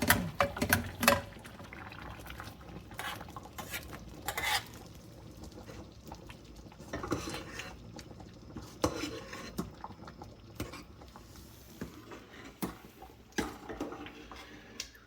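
Cooked okra curry being mashed in a pot in a South Indian kitchen: irregular clinks and scrapes of a utensil against metal, with soft squelchy mashing in between, close and fairly quiet.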